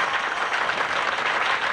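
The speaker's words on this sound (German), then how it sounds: "Danke für den freundlichen Applaus." Applause from a theatre audience greeting a masked street performer, a dense steady wash of clapping with no pauses.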